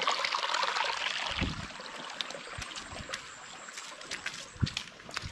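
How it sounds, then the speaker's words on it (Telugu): A small waterfall trickles and splashes continuously over rocks nearby, a steady babbling with a few louder splashes and no voices. "ఈ జలపాతం అనేది ఇక్కడ నుంచే స్టార్ట్ అవుతుంది"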